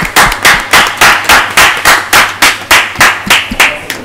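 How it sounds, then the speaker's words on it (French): People at an award event clap in a sharp, regular rhythm of about three claps per second. The claps are close and loud throughout, with no talking. "est-ce qu'on peut applaudir très fort pour le grand public qui nous regarde?"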